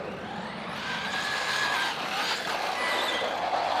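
A Maverick Quantum2 MT RC monster truck on a 3S battery drives and slides across slick blacktop, its electric motor whining continuously with rising and falling pitch and tire scrub, close and fairly loud throughout.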